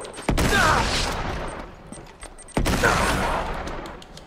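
Gunfire in Uncharted 3, two loud sharp shots about two seconds apart, each followed by a ringing decaying tail, close and prominent with no talking.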